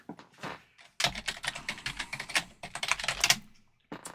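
Rapid bursts of keystrokes on a computer keyboard, clattering in quick irregular runs with brief pauses, close and fairly loud with no talking.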